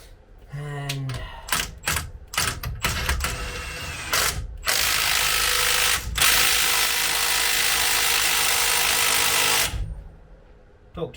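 A new nut with its washer is tightened to torque spec with a wrench, rapid ratcheting clicks in bursts up close, then a long loud continuous whirring mechanical run before it stops.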